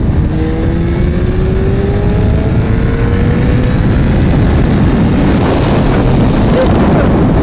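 A Suzuki GSXR 1100 motorcycle accelerating at about 80 km/h, the engine note climbing steadily under heavy wind rush, loud and close throughout.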